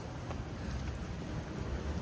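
Light drizzle falls as a steady, soft, even hiss of rain with no distinct drops standing out, outdoors in Tokyo, with no voices.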